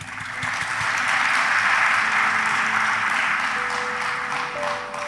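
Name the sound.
applause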